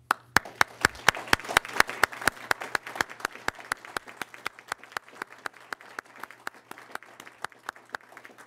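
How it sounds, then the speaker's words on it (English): Audience applause for legislators during a governor's State of the State address, with sharp individual claps standing out over steady clapping that gradually thins and fades. "I applaud you for your service and ask the audience to join me."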